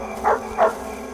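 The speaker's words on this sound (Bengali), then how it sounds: "কেবল থেকে থেকে কুকুর ঘেউ ঘেউ করে ডাকছে" A dog barks twice at night in a silent, sleeping village, two short, moderately loud barks spaced apart against a quiet background.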